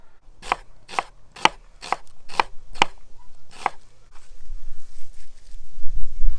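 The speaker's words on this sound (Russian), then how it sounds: "И сюда же подрежем свежий лук." A knife chops fresh onion on a board in seven sharp, evenly spaced knocks, close and crisp, followed by quieter rustling and handling noise.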